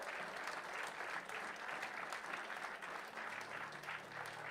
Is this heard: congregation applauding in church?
yes